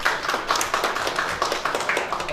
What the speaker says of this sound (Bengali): ইনশাআল্লাহ ওনার জন্য একটা করতালি হবে